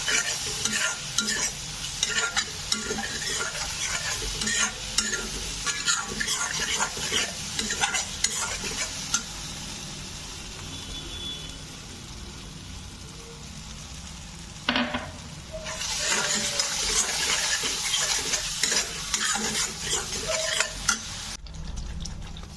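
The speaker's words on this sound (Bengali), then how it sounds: "খুব ভালো করে আবার কষাতে হবে যাতে বাদামের কাঁচা গন্ধটা না থাকে।" Almond paste for butter paneer stir-fried in a pan, with continuous close sizzling and rapid scraping strokes through most of the stretch, one brief quieter pause in the middle and no talk.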